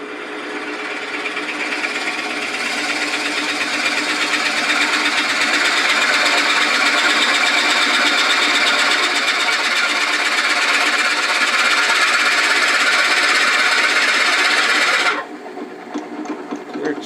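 A lathe slowly drills three inches into green wood, about 500 rpm on a low-speed torque range, while turning a wooden mortar and pestle. A loud, steady grinding whir holds for about fifteen seconds, then cuts off abruptly, leaving quiet room noise.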